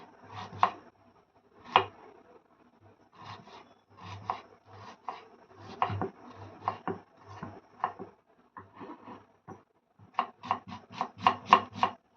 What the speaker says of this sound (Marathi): कांदा अगदी बारीक चिरून घ्यायचा आहे